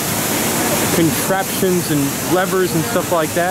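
A water wheel turns in flowing water, driving machinery at the Knoebels amusement park. A steady rush of water runs throughout, beneath someone speaking close by.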